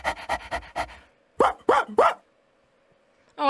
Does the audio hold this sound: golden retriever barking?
yes